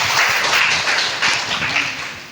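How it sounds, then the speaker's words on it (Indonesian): A congregation claps at a morning church worship service, a brief burst of close, dense applause that slowly eases off. "Kita berikan tepuk tangan."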